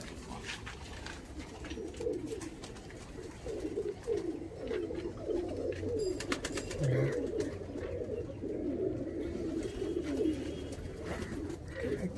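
Andhra high flying pigeons coo steadily in a loft, a dense chorus of overlapping low, throaty calls running through the whole stretch at moderate, close range, with faint rustling behind.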